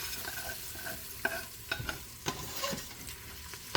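Collard greens searing and scraping against the bottom of a pot, a steady soft sizzle broken by several sharp utensil scrapes and clinks at irregular intervals, close and fairly quiet, with no talking.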